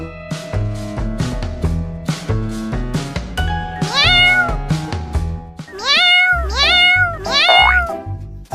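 Kittens meow repeatedly and close by, a series of short, high, wavering cries that grow louder and more insistent toward the end, with no talking.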